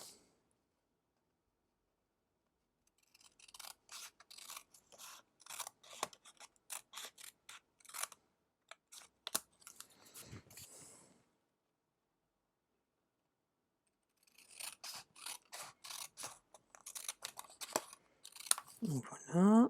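Scissors snipping through pieces of paper during a paper craft, heard as quick rhythmic clusters of close, crisp cuts, then a pause of several seconds before another run of snips.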